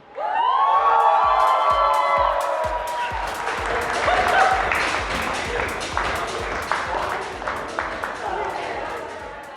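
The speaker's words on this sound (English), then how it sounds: "A warm round of applause." Sustained applause and cheering from a crowd of guests at a wedding reception, with whoops and a voice over the top at first, loud and close, then thinning to scattered claps.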